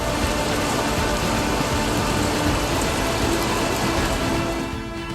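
Heavy rain pours steadily during a winter storm in California, a dense, continuous hiss that stays loud throughout and eases slightly at the very end, with no voices.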